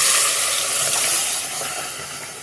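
Boiled vegetables for hotel-style poori sagu are tipped into hot frying masala, setting off a loud, steady steamy hiss that slowly fades over a couple of seconds.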